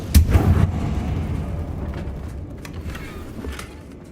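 Confringo fire spell blast in Hogwarts Legacy, a sharp close explosive boom at the start trailing into a fading rumble with faint crackles, no voices.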